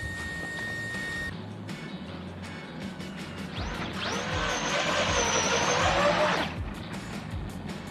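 Arrma Limitless RC car upgraded with an XLX2, pulling donuts on a broken spool: a loud, steady high-pitched motor whine rises mid-clip over rough background noise, holding for a couple of seconds before cutting off.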